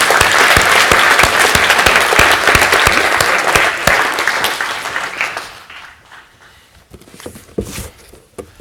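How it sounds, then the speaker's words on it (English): An audience at a mathematical puzzle competition applauds the winners with dense, loud, close clapping that holds strong for several seconds, then thins into scattered individual claps and fades toward the end. "So please give them a big round of applause."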